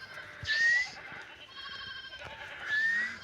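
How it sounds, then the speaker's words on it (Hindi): A flock of sheep and goats moving along a misty, snowy mountain path, with two clear, nearby bleats about two seconds apart over quiet ambient noise. "भेड़ बकरियाँ देखिए कितने ही खूबसूरत अंदाज से चल रही हैं"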